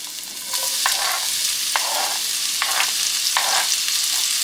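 One medium onion fries in hot oil, a loud, continuous sizzle with a spoon scraping through the pan about five times at uneven intervals and no voices.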